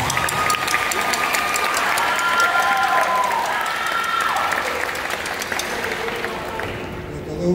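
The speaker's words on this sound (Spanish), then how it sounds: "Denme un más fuerte aplauso a esos papás." An audience at a school music dance band show applauds steadily, a dense wash of clapping that holds for several seconds and slowly fades a little toward the end.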